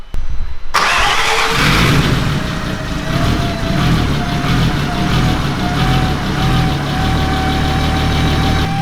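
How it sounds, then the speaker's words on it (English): A rebuilt 2.8 24v VR6 turbo car engine cranks briefly on its first start, catches and fires up, then settles into a loud, steady idle close by, with no talking. "we're just gonna crank this thing over"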